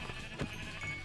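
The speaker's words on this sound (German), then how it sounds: "Oh, ich habe ein Schaf gehört." A short sheep bleat in Minecraft rises briefly out of a low game backdrop, one quick call, moderately near and not very loud, with no speech.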